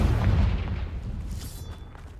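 Confringo fire spell from Hogwarts Legacy bursts at the start with a heavy boom, then a fading rumble and crackle with a faint magical shimmer late in the clip.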